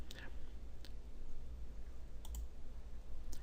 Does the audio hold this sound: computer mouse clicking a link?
yes